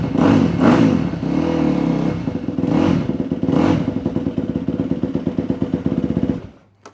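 A Yamaha YZ250F dirt bike engine runs after a clutch repair, close and loud, with a few blips of the throttle before it settles into a rapid, steady chugging idle in gear that cuts off sharply at the end.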